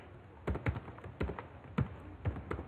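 Typing on a computer keyboard while writing a Raspberry Pi Python file produces a handful of distinct, irregularly spaced key taps, close and crisp, with no talk.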